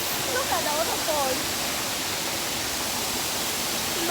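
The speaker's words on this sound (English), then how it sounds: "Look at the waterfall." A waterfall near the Amabere caves at Fort Portal pours in a steady, loud broadband rush, constant from start to finish with faint voices beneath.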